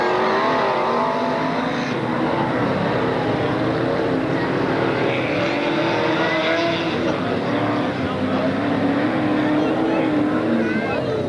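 Two-seat Class 10 off-road race buggies with 1,650cc engines compete at the 17th annual UP 100 off-road race in Bark River, Michigan, their engines droning steadily and loud throughout, with an announcer's voice talking over the racket.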